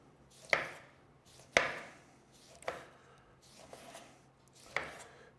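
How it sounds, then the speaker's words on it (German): A knife chops sugar-coated grapes finely on a board in slow, spaced strikes, about five crisp hits with soft scraping in between, close and fairly quiet, with no talking. "wirklich klein geschnitten, richtig klein"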